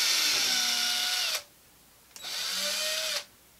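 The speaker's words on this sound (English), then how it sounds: "I'm going to just use like a little drill bit. This is a salt and pepper drill." A small power drill bit whines steadily as it bores a hole through the foot ring of a large clay platter, running in two bursts of about a second and a half separated by a brief pause.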